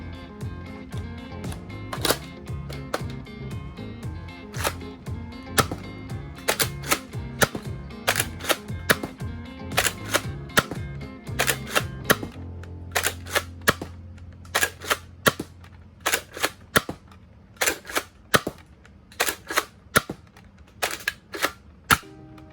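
A Nerf Elite 2.0 Echo blaster fires Elite foam darts in a long series of sharp, loud snaps and clicks, with priming clatter between shots, rapid at first and then more spaced out.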